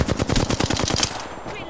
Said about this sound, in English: Taken fire. Getting shot at.